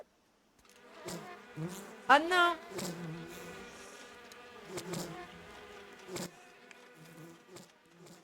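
Bees buzz in the Ghost of a Tale video game, a steady droning hum beneath game effects, with a brief exclamation from a man partway through.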